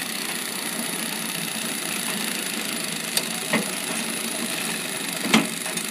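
A Pro-taylor packing machine runs with a steady mechanical hum and whir, joined by a few faint clicks and knocks, at moderate distance with no voices.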